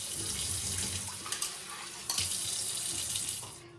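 Running tap water pours steadily over soya chunks being washed in a sink, a continuous close hiss with small splashes and clunks as the chunks are handled, fading slightly at the end.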